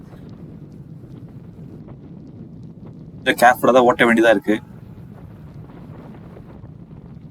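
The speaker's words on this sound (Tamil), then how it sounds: "அவ்வளோ காத்தடிச்சு கிடக்குது ஏர்லி மார்னிங் டைமில்" Steady low wind rumble buffets the microphone throughout a motorbike ride on an early morning in strong wind, with someone speaking briefly in the middle.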